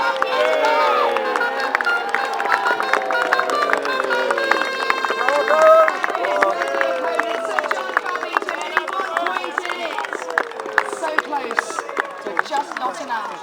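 Outdoor festival crowd at a St George's Day jousting tournament cheers and applauds a knight, a loud, continuous wash of voices and clapping with shouts rising over it and announcer talk threaded through.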